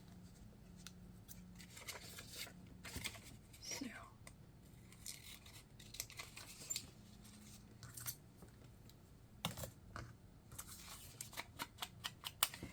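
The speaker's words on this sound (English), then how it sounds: "I want to use my scissors." Soft, crisp scissor snips cut a paper envelope for a handmade journal. The snips grow quicker toward the end amid faint paper rustling and a brief quiet spoken word.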